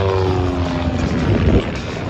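An aerobatic propeller plane trailing smoke roars past at an airshow on Veterans Day weekend, a loud close engine drone with a falling pitch as it passes.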